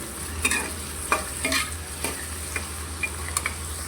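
Onions and green chillies frying in oil for a prawn and egg curry, stirred with quick, uneven spatula scrapes against the pan over a constant close sizzle.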